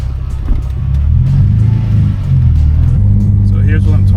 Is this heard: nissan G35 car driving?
yes